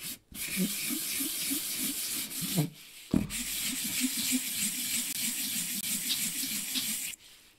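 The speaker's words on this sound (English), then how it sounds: "I still have some 400 grit sandpaper that I'm gonna use" Steady back-and-forth rubbing of 400 grit sandpaper, in long continuous strokes with a brief pause midway, close and moderately loud.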